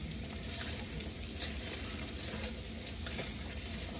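Roughly chopped garlic cloves and half an onion frying in a pan for kimchi fried rice, a steady dense sizzle and crackle throughout at low volume, with no voices.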